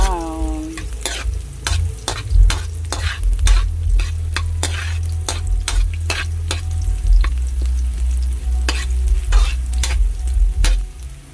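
Garlic, ginger and onion sauté in a pan, a steady close sizzle punctuated by repeated scraping and clanking stirs of a utensil against the metal, with no voices.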